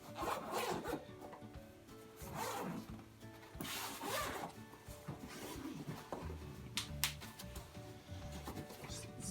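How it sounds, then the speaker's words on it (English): The zipper on a Bugaboo Fox stroller bag cover is pulled around in a series of quick, close rasping strokes with short pauses between them, against quiet handling noise. "Zip it on from one side and pull the first zipper all the way around."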